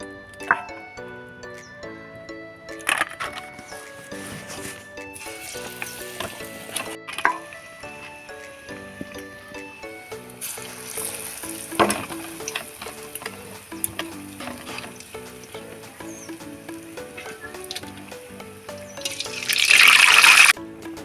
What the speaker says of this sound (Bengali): আমি কম তেলের জন্য 2টো করে দিয়ে ভেজে নেব।